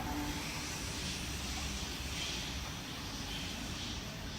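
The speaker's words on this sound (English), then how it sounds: "Well, we've got a plane in the sky." A plane passes overhead at night near a railway station bridge, a steady broadband roar that stays loud and even throughout with no speech.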